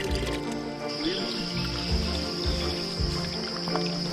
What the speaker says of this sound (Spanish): llenar las cantimploras con un arroyo que se hace aquí en la cima de la montaña